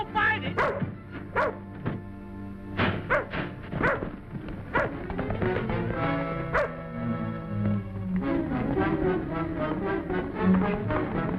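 A dog barking, yipping and whimpering in an old western TV episode, several loud close barks over music with a voice speaking at times.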